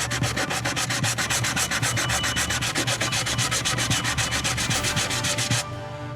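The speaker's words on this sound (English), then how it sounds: "So I'm just going to sand." Tabletop gaming sidewalk terrain pieces being sanded by hand in fast, even back-and-forth strokes, loud and close, about thirty rasping passes before the rubbing stops.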